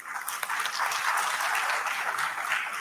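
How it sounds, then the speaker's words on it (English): Broad wash of audience applause at an HR conclave at Subharti University, many hands clapping steadily at moderate loudness for a few seconds, no talking. "So a big round of applause for the new beginning."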